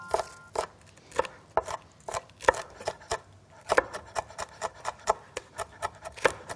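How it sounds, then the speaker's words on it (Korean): A knife chops red chili pepper finely on a cutting board, striking in a quick, steady rhythm of about twenty sharp, close taps with no talking. "그래서 이제 아주 송송 잘라주세요"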